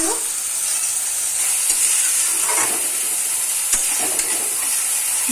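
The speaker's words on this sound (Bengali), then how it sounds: "এখন এখানে লঙ্কা বাটা, আদা বাটা আর রসুন বাটা আছে, এটা দিয়ে দিলাম। ভালো করে ভেজে নেব এটাকে।" Chili, ginger and garlic paste fries in a pan with a steady, close sizzle, broken by occasional stirring scrapes and clicks.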